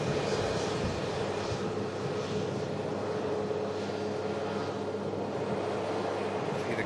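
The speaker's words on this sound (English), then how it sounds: "Another aircraft heading over to T2." A fixed-wing airliner taxis at an airport, its engines giving a steady, loud, continuous drone with no break from start to finish.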